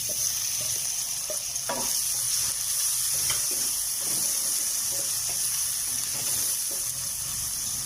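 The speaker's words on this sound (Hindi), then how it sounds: "लहसुन अदरक हमारा थोड़ा सा भून गया" Garlic and ginger sizzling in hot oil in a pan, a steady close-up frying hiss with occasional light scraping taps from stirring, continuous and without talk.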